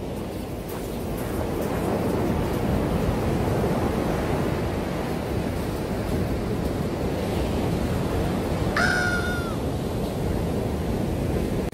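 Big waves surge and wash continuously onto an East Sea shore, forming a loud, broad roar close by, with a short high squeal near the end.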